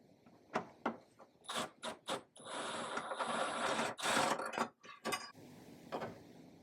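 Bolts and a Torx screw being worked loose from the rear bumper support bracket of a Porsche 997, with close, irregular ratcheting clicks and metallic rattles in short bursts, plus a sustained whirring stretch in the middle.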